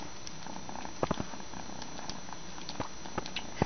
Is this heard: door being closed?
no